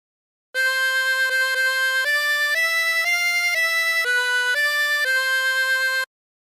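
A harmonica plays a slow melodic phrase of The Streets of Laredo, with sustained, reedy single notes stepping up and back down in a steady rhythm, close and clear with no talking.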